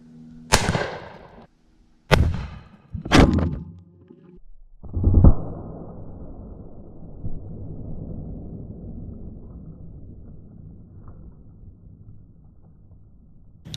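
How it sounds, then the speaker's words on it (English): A 12 gauge shotgun firing clean shot into a ballistic gel head from about 15 feet: three sharp, loud blasts in quick succession, then a fourth impact followed by a long fading rumble and rattle. "we just shot this head with our clean shot out of a 12 gauge"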